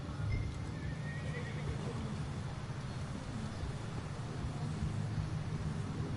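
An Appaloosa horse in a video game neighs and whinnies while its hooves clip-clop steadily over a constant noisy background, with no voices heard.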